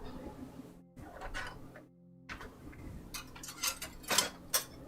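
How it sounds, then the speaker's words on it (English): A whisk stirs pancake batter in a bowl, making light, irregular clicks and taps of metal on the bowl. Short pauses break the scraping, and the strokes quicken toward the end. The sound is close but quiet. "just going to kind of whisk these together"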